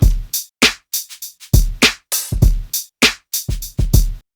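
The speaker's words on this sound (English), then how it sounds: "I have dragged in a drum loop that I made earlier, and it sounds like this with no reverb." A dry drum loop plays alone, with punchy kicks and sharp snare and hi-hat hits in a tight, syncopated rhythm, each hit cut off cleanly with no echo.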